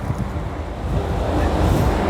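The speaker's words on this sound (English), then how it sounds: "It's so windy." Strong wind roars steadily across a ferry deck on an overnight crossing in Shetland, a loud, dense broadband rush with surf-like swells and no voices.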